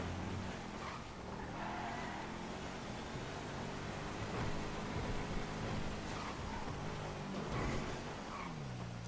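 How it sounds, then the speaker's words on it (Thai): Steady rain hiss in GTA, with a car engine rumbling underneath, constant and moderately loud throughout. "มันฝนตกมันหนาว"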